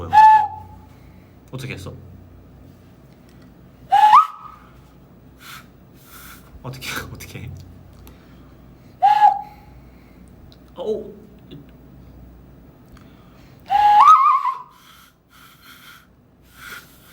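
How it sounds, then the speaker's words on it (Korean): A person whistling loudly in short, sharp bursts with rising and falling pitch, spaced between breaths and chatter, with people talking in between. "제가 휘파람을 초등학생 때부터 연습을 했어요."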